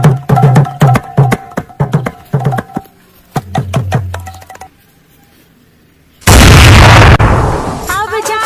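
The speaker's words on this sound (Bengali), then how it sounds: "মেয়েরা কালী পুজোর সময় যেভাবে চকলেট বম ফাটায়" A chocolate bomb firecracker set off for Kali Puja bursts in one loud, close blast that rumbles and decays for about two seconds, coming after a stretch of voices and clattering sounds.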